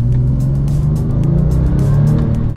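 A Porsche 997 accelerates hard as the turbo comes on, with a loud, close, rising engine roar and rumble that holds strongly for the whole stretch.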